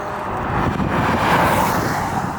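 A 2021 Buick Envision Avenir driving on the road, heard from inside as a steady broadband rumble of road and wind noise, fairly loud and continuous with no talk.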